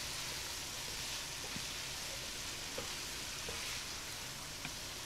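Vegetables frying in a pan for a Bengali koi fish curry, a steady dense sizzle running throughout with a few faint soft clicks of stirring, no talk.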